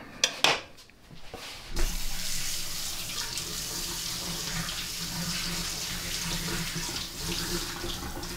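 A kitchen tap runs steadily into a sink while a raw lobster tail is rinsed under it for a gnocchi dish, a continuous close splashing flow that starts after a couple of brief knocks and handling sounds.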